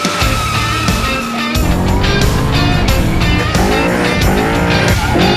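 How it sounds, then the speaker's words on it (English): Street legal cars at a no-prep eighth-mile drag race: loud engines roar and rev with squealing tires close by, rising in pitch as they accelerate away. "it's just fun drag racing."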